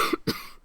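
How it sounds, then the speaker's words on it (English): Two quick, close coughs in rapid succession, short and sharp, with nothing else around them. "I'm sorry about coughing there"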